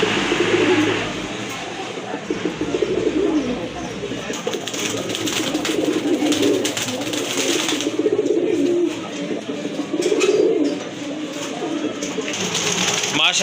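Pigeons of local and foreign breeds kept in a pigeon seller's collection coo repeatedly in low, throaty bursts, close by and steady throughout, with someone talking over them.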